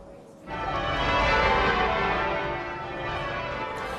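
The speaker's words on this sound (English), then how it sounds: "at Westminster Abbey, where the Queen was married and crowned, the bells rang out for 3 hours this afternoon" Church bells ring out at Westminster Abbey, a sustained wash of overlapping metallic tones that swells and lingers for several seconds.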